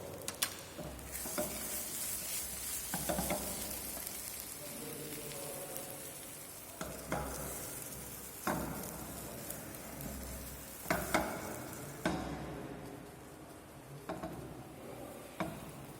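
Spoon stirring a dry Indian spice mixture of garam masala, red chili powder and salt in a pan, giving a soft sizzling scrape with repeated sharp stir strokes and clinks, close and steady with no talking.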